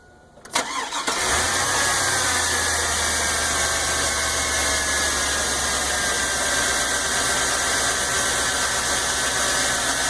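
A fuel-injected overhead-valve V8 of about 285 horsepower with two valves per cylinder cranks briefly, catches and settles into a loud, steady idle up close.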